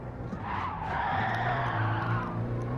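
A car's tyres skid hard through a hairpin under a pulled handbrake, a loud, sustained squeal over a steady engine drone, close and with no talking.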